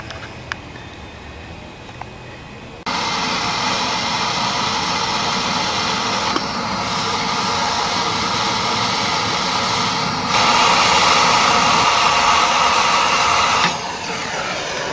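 A metal part being heated before bending, during a Kohler Courage engine repair, makes a loud, steady roaring hiss that starts abruptly and runs unbroken for several seconds with small shifts in intensity and no talking.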